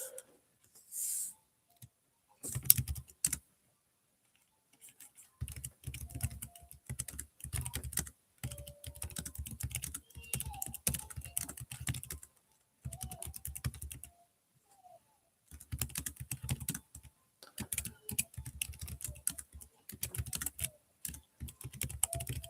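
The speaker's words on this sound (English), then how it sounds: "sorry if you hear me typing and clicking away, trying to get this thing posted on Google Classroom for you guys" Computer keyboard typing and mouse clicking while posting to Google Classroom, heard as bursts of close, rapid keystrokes separated by short pauses, with no talking.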